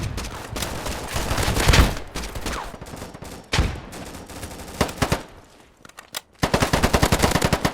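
Gunfire in a video game: rapid bursts of automatic weapons fire with dense, crackling shots, broken by short pauses, a quieter gap, then another loud, fast volley.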